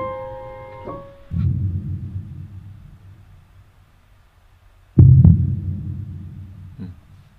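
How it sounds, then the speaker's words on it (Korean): Heartbeat sound effect for a pop song demo track: a few deep low thumps, one around the start of the second second and a heavier double thump near five seconds, heard alone over a faint hum. "심장 소리 같죠?"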